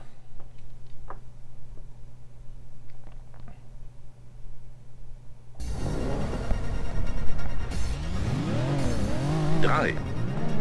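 A Porsche 914 racing in Need for Speed Porsche in a gold club tournament race bursts into loud engine revving after several quiet seconds, then rises and falls through gear shifts with brief tire squeal, with a voice talking at times.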